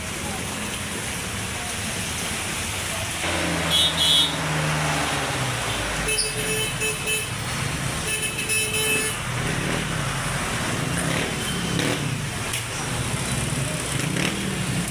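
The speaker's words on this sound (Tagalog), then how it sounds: "Grabe traffic ng mga idol" Heavy road traffic crawls through a flooded street on Congressional in Caloocan, with engines rumbling, a horn tooting and steady rain hiss throughout, while someone talks over the scene.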